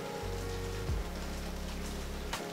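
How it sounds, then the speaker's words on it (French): Steady rain falling outside during a family outing, a broad hiss of drops under a low engine-like hum, continuous and fairly close throughout. "En plus il pleut et tout"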